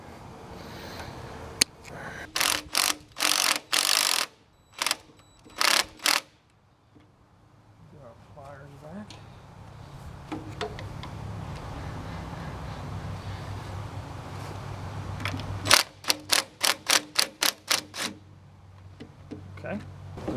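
Snipping the wire connector off an old ignition coil on an 8N Ford tractor, heard as a scattering of short, crisp clicks and snaps in clusters, close by, with someone talking in between.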